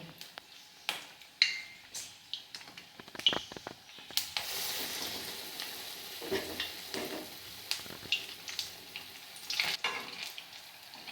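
Urad dal medu vadas deep fry in hot oil, a steady bubbling sizzle with intermittent clinks and scrapes of a spoon as they are turned and more are added.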